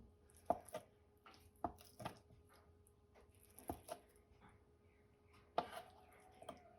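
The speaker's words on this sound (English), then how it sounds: "And just chop this up." A knife chops salad ingredients including feta cheese on a board, sharp knocks coming in scattered bursts against a quiet background.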